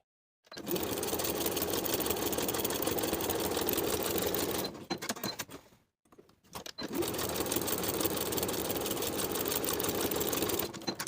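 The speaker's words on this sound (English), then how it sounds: "Then we're going to top stitch this curved area twice. First I'm going to edge stitch, then I'm going to stitch 1/4 inch away." A sewing machine topstitches the curved pocket edge of a pair of jeans, running in a loud, steady close whir for about four seconds, pausing briefly, then resuming for another long continuous stretch.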